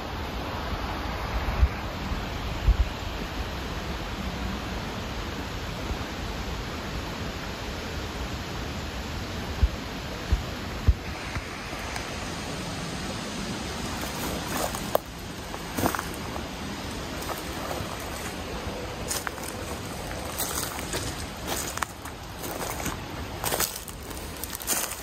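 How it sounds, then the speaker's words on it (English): High creek water, running wide and shallow, flows in a steady, broad rush that fills the whole stretch, with occasional wind buffeting on the microphone. "See how the water is kind of overflowing."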